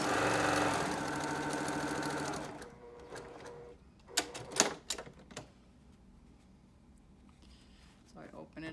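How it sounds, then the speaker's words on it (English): A sewing machine runs a fast, steady rattling stitch for about two seconds while quilt pieces are joined with a 1/4 inch seam, then stops, followed by a few sharp handling clicks and a quiet voice. "Then I'm going to start stitching, 1/4 inch seam allowance."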